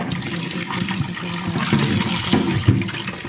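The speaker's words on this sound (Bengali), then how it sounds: "এখন তো মসুর ডালটা ধুয়ে দিচ্ছি" Running water splashes steadily as red lentils are rinsed in a home kitchen, a continuous close wash with small knocks and clatters throughout and no talk.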